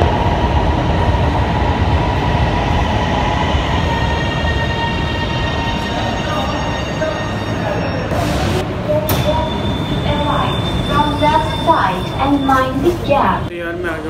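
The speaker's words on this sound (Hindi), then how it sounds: "अब मैं आ गया हूँ स्टेशन में और ट्रेन का वेट कर रहा हूँ और ट्रेन आती है" A metro train arrives at a station with a continuous rumbling roar and the rattle of wheels, slowing as squealing brake tones rise near the end, with someone talking over it.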